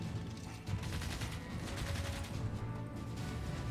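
Distant bursts of gunfire in the strategy game Civilization 6, a quiet crackling series of shots over a low steady background.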